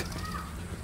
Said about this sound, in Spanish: Un pájaro.